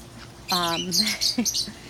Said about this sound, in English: You might hear my lovebirds over there.